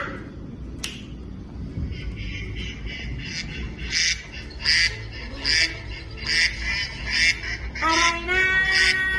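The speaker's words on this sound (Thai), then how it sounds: "คือเสียงของเป็ดนั่นเองจ้า" Loud duck quacks repeat in a steady series over a noisy background, ending with a longer nasal call.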